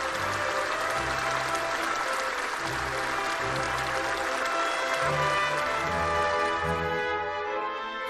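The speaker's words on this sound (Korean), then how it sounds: "두 나라 최고 수뇌군들을 열광적인 박수로 환영했습니다" Sustained, enthusiastic applause from a large crowd welcoming two leaders in Pyongyang, a dense unbroken roar of clapping that fills the space and holds steady before easing slightly at the end.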